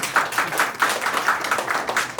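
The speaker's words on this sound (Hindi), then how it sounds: "जरा जोरदार तालियां बजा दीजिए।" An audience at a business seminar on labour law and employee benefits applauds loudly, a steady dense patter of many hands clapping without pause, with no talk over it.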